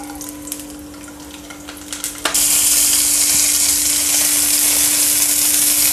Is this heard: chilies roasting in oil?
yes